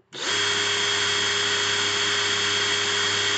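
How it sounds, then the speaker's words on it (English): A power drill spins up sharply and runs at a steady high whine in reverse, unwinding a vaping coil wire to release its tension, loud and close with no talking. "So reverse the drill, let it go."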